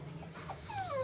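A two-month-old puppy gives a faint, thin, high whimper near the end of a short, quiet stretch over low background hum.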